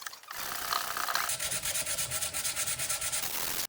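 Rapid back-and-forth sanding rasps across an end grain wood cutting board, a close, rhythmic scratching that runs steadily for a few seconds without pause.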